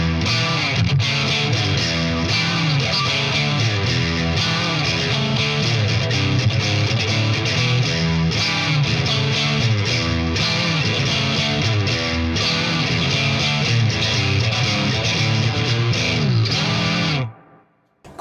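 An electric guitar played through a Von York Black Pearl pedal set in series gives a loud, driven, distorted tone, chords and riffs ringing continuously for about seventeen seconds before stopping abruptly.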